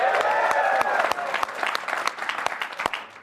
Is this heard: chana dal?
no